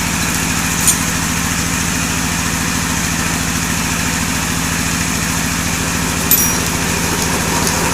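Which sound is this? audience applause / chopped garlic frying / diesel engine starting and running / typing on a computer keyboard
diesel engine starting and running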